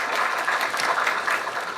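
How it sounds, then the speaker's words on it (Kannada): An audience applauds a stage event for the Kannada film Spark: dense, steady clapping, loud and close, runs through the whole moment with no voices over it. "ದಯವಿಟ್ಟು ಒಂದು ಚಪ್ಪಾಳೆ ಬರಲಿ ಅವರಿಗೆ"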